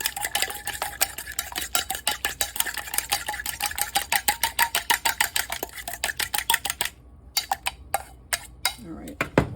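Egg and a spoonful of heavy cream whisked together for an egg wash, a fast steady run of close metal-on-bowl clicks that thins into a few scattered taps at the end.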